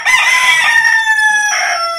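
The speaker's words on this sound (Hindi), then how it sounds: "मुर्गे बाज नहीं आते, मुर्गे अपने अजानों से।" A rooster crows loudly and close by, one long drawn-out call with a shift in pitch toward the end.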